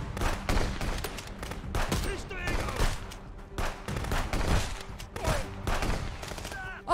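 Rapid video game gunfire, shotgun blasts mixed with bursts of shots, cracks sharply and repeatedly in an action match, close and loud with a player's voice talking between shots.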